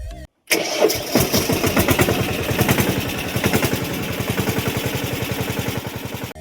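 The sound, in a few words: tractor engine starting with self-starter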